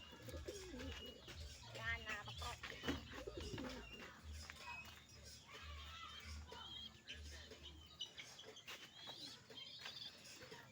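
A pet pigeon cooing in soft, low, rolling phrases repeated several times, close but fairly quiet, mixed with light chirps and background noise.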